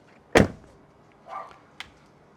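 A Tesla car door opening: a sharp mechanical clunk, then a softer whir and a small click, close and otherwise quiet.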